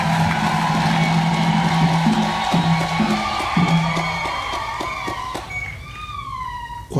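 A congregation at a jubilee Mass for a priest's 25th anniversary of ordination cheers loudly and continuously, with sustained stepped horn-like blasts underneath and rising ululating whoops near the end.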